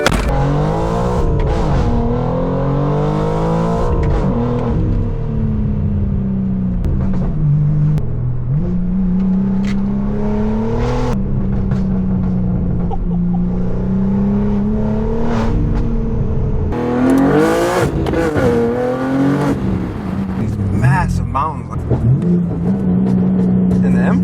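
A BMW M4 G82 with a body kit drives and accelerates, its engine droning and rising through several revving surges, close and loud, with road noise throughout.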